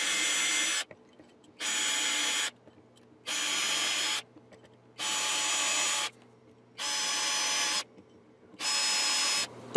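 A power drill bores into a guitar neck in six even bursts of about a second each, separated by near-silent pauses, with a high whirring tone close to the listener.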